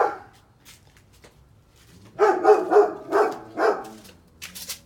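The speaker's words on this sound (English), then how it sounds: "And you hear this puppy next door." A puppy next door at a house with a newly fenced, dog-secure yard yaps in a burst of several sharp barks and whimpery yips, moderately loud after a quiet opening, with a few fainter yips at the end.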